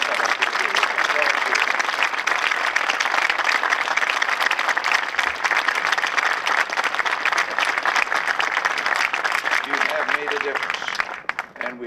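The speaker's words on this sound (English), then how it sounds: "We do all applaud you." A crowd applauds 38 award winners at the 1987 Take Pride in America Awards in a long, dense wash of clapping. It holds steady for several seconds, then thins near the end as a voice starts to speak.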